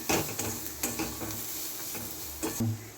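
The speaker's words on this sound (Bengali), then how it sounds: "চামচি লঙ্কা গুঁড়ো দিয়ে দিলাম মশলাটাকে একটু ভেজে নেবো ভালো করে" Spice masala with chili powder sizzles steadily in a pan while a spoon stirs and scrapes it, with soft clinks against the metal and no talking.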